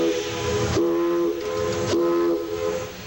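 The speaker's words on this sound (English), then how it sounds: "For the first time in 28 years, L&N Engine 152 let off some steam." L&N Engine 152, a steam locomotive, releases steam with loud whistle-like tonal blasts: two long sustained bursts over a hissing rush, close and powerful, cut off abruptly between them.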